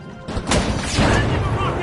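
A C4 charge goes off in the video game The Finals, a loud, close blast that erupts about half a second in and rumbles on with crashing debris to the end.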